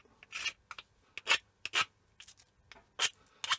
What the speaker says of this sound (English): just scrape the corners off, the whole thing